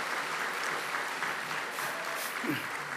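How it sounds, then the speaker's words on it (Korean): A congregation applauds a church choir at a summer camp evening service, giving a steady, fairly soft burst of clapping from many hands with a faint voice near the end. "다시 한번 울산교회 합창단에서 큰 박수 부탁드리겠습니다."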